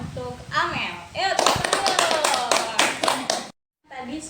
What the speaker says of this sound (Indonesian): mari kita berikan tepuk tangan yang meriah untuk Amel